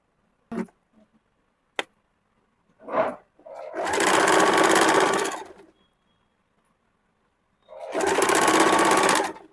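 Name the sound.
sewing machine stitching a kurti seam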